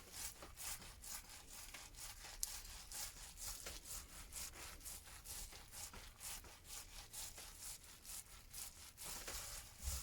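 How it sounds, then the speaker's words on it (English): Wool felt being rubbed with soap and water to form pre-felt, a steady close scratchy swishing in quick repeated strokes that continues without pause. "5 to 7 minutes of rubbing should be enough to produce a good quality pre-felt"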